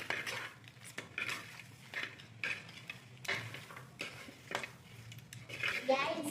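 Crab curry stirred in a metal pot, with repeated clinks and scrapes of a spoon against the sides in an uneven rhythm, close and fairly soft.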